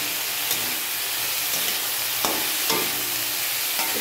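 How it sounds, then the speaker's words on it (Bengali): Mixed seasonal vegetables lightly frying for dal while being stirred, a dense steady hiss of oil with a few soft scraping strokes of the spoon in the pan. "এটা যখন ফ্রাই করছি, মানে একটু ভেজে নিচ্ছি"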